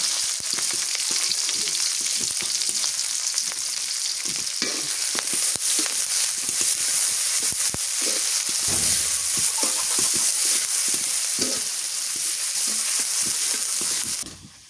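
Chopped onion and green chili frying hard in a hot pan, a loud continuous sizzle and crackle up close with scattered stirring clatter, no voices.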